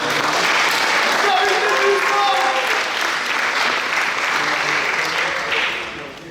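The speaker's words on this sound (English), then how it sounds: "Again, one more round of applause for all of them." At the closing speeches of a university Culture Night, the audience breaks into a long, loud round of applause, thick steady clapping that tapers slightly at the end, with some voices mixed in.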